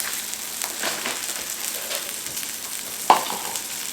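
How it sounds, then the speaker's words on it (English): Maryland crab cakes sear in a hot pan with a soft, steady sizzle, and a single sharp scrape of a spatula cuts in near the end. "So I'm just going to show you how to sear this."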